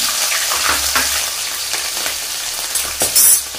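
Green chillies dropped into hot ghee and oil for a veg pulao tempering, giving a steady close sizzle with a few stirring scrapes and a brief louder crackle near the end.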